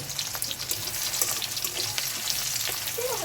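Onions fry in hot oil with a dense, continuous sizzle and a few stirring scrapes, close and loud, without talk.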